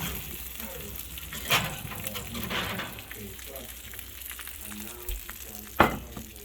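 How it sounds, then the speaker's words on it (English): Continuous crackling sizzle of a homemade pan pizza frying in a hot pan, with occasional louder pops and a voice talking faintly underneath. "Listen to that sizzle."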